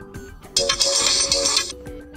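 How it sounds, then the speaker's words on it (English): A bright electronic ringtone from a Motorola Moto E20 phone plays a short melodic phrase, loud and close, with soft clicking taps underneath. "We can change our phone ringtone."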